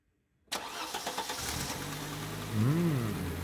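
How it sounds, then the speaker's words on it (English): An Audi 200 five-cylinder engine cranks and catches after a moment of silence, revs briefly, then settles into a steady close idle with a slight rise in revs near the end. "That's a lovely sound of Audi's 5-cylinder engine."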